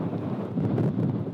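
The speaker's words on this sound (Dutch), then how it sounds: "Kijk, het waait hier wel, maar het valt me toch een beetje tegen." Gusty outdoor wind buffets the microphone in a steady low rumble, loud and continuous with no voices over it.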